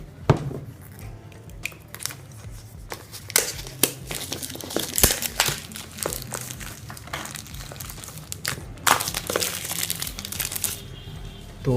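Polythene wrap crinkles and tears as a Mivi Roam travel Bluetooth speaker is unboxed, a busy run of close plastic rustles and crunches with no talking.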